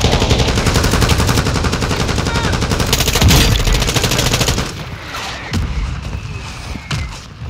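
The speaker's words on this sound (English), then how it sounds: "Mortar strike underway." Dense, loud automatic gunfire rattles continuously in a Warzone 2 match on Ashika Island, punctuated by heavy thuds and a booming mortar strike, before the firing thins to scattered shots and rumbling impacts.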